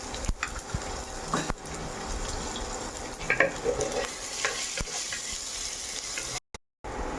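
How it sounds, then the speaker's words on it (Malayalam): Steady sizzling of onion, garlic and masala sautéing in a pan with repeated scraping and stirring strokes, close and continuous, no voices. "ഒന്നുകൂടെ നന്നായിട്ട് വഴറ്റി എടുക്കണം"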